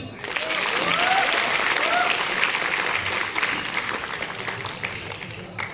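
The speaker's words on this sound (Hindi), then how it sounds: "जोरदार तालियां होने चाहिए गुरुदेव लोग के लिए।" An audience at an achievers' recognition event claps in a sustained burst of applause that rises quickly, holds fairly loud, then thins toward the end, with faint voices mixed in.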